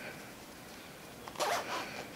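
A skirt zipper handled during a sewing lesson on an anatomical waistband and flared skirt gives a short, close zipping rasp near the end, with a low room hush before it.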